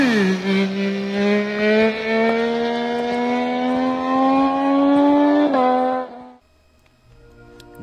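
A Triumph Daytona 675 three-cylinder sport motorcycle engine revs loud and close, its pitch climbing steadily, jumping briefly near the top, then cutting off abruptly into near silence.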